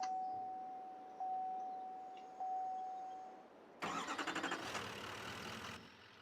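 A lifted 2012 Chevy Silverado Duramax truck in Farming Simulator 22: a chime tone and clicks, then the diesel engine cranks and catches into a rumbling idle, close and clear without talk.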